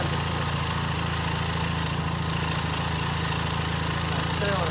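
A Royal Enfield motorcycle engine idles steadily nearby, a continuous low mechanical rumble with no breaks throughout.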